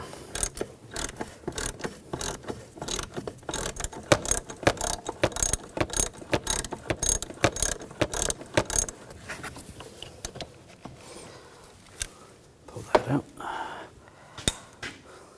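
A ratchet loosening a nut on the brake master cylinder of a 2011-2018 Volkswagen Jetta, clicking in rapid, close bursts that slow to a few scattered clicks and knocks.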